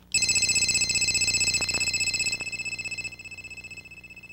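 A Motorola StarTac flip phone from the 1990s sounds its electronic ringer as a rapid, trilling, high-pitched warble that pulses steadily and close up for about four seconds, dropping slightly in volume in steps as it plays.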